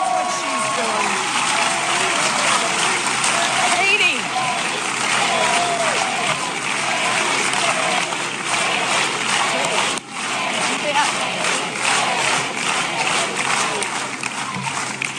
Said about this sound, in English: I like this cheering because it makes the next part easier